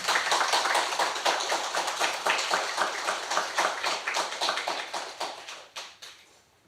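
A congregation applauding at a Thanksgiving Sunday church service: steady, dense rhythmic clapping from many people, close and lively, gradually thinning and fading out toward the end.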